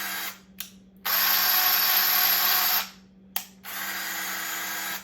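RYOBI electric drill with a metal chuck running at first and then second speed, two loud steady whining runs close by, separated by brief stops, with no talk.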